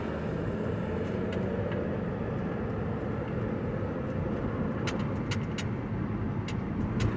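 A 2009 Mazda 5 with a newly installed transmission control module accelerates through higher gears, heard as a steady road and engine rumble from inside the cabin, with a few faint ticks near the end and no voices.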